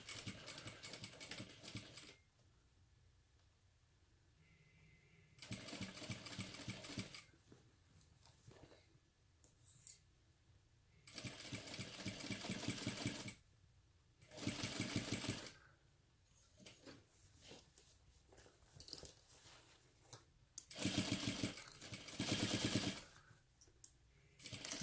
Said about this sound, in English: we'll sew again at a 1/4 inch seam allowance